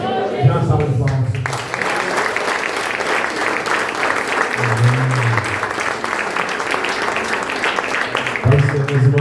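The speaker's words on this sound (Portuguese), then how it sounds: "Dê uma salva de palmas." A church congregation breaks into loud, sustained applause, dense clapping filling the space, while a voice speaks and sings over it in brief bursts at the start, middle and end.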